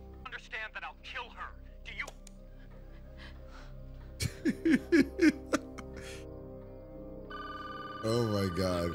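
A telephone rings with steady electronic tones in a TV crime drama scene, alongside reacting voices and short bursts of laughter.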